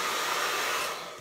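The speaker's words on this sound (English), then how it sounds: "I'm gonna hit it with a hair dryer right quick" A hair dryer blows on wet paint on a canvas project, a loud, steady airy whoosh with no talk that eases down slightly at the very end.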